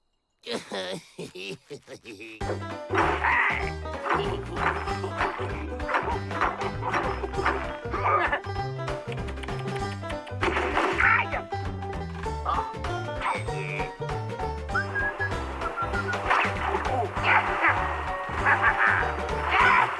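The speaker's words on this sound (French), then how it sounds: "Oh, j'adore les chiens." Cartoon dog barking amid a busy orchestral score in an animated French comedy, with several bright yaps over loud continuous music and characters talking throughout.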